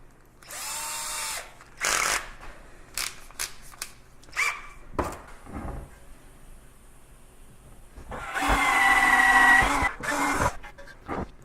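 An electric drill boring a small starter hole in a metal motorcycle dolly whirs in several bursts, some short and some longer, with a grinding bite near the end and quiet clicks and handling noises in between.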